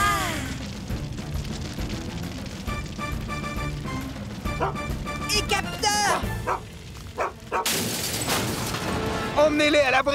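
A cartoon dog barks during a Fireman Sam railway rescue episode, with sharp yaps scattered through busy music, voices and bursts of action noise.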